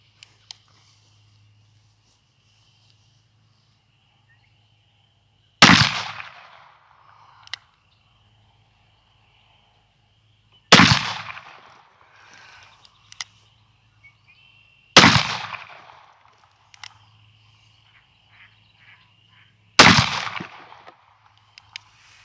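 A BFR revolver fires four loud, sharp shots outdoors, spaced roughly five seconds apart. Each shot leaves a long echoing tail, with near silence between them.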